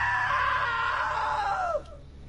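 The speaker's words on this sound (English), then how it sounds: "Now that was a great scream." A loud, sustained scream holds for nearly two seconds on one drawn-out breath, then drops in pitch and cuts off abruptly.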